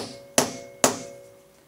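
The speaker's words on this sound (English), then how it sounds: "I'm gonna take my anywhere hole punch and my hammer." A hammer strikes an anywhere hole punch twice, two sharp, loud, close metallic hits about half a second apart, each ringing briefly before fading, with no talking.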